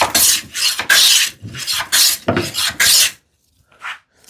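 A hand plane rasps across a wooden workpiece in repeated strokes, several bursts of scraping shavings close up, followed by silence and a faint final scrape.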